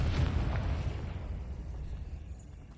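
A Confringo explosive spell cast in Hogwarts Legacy, a single deep blast at the start that rumbles and slowly fades over a few seconds, with no talking.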